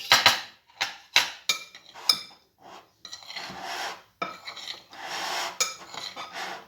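Utensil scraping and clinking against a bowl while rice salad is mixed with vinaigrette, a series of short rhythmic strokes, close and fairly loud, with no talk.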